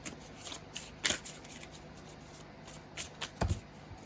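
A brand new deck of playing cards being shuffled close by, soft riffling bursts and flicks in an irregular rhythm with no voices.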